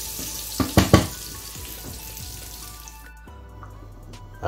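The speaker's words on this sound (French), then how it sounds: "Là mes lardons commencent à être bien grillés" Lardons fry in a pan, giving a soft crackling sizzle with a few louder spatters early on before the frying quiets and fades.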